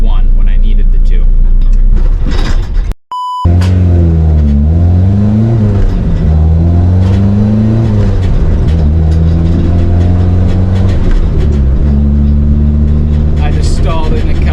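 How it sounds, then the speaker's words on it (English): A Nissan 240SX drift car with a competition clutch stalls: the loud engine note cuts out abruptly into near silence for a moment, then the engine restarts and settles into a steady, strong idle and revving drone. Faint talk sits underneath. "I just stalled and the cop passed me."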